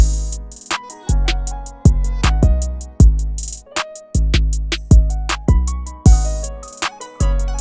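A punchy beat made in FL Studio, with heavy bass thumps and snappy hits and a percussion accent washed in long, echoing reverb; loud, no talking.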